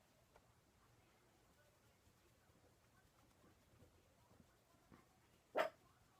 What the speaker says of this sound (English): Sorry if you can hear her barking.